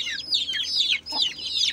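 Desi chickens and their growing chicks cluck and peep continuously at close range, a busy overlapping chorus of short chirps with no talk.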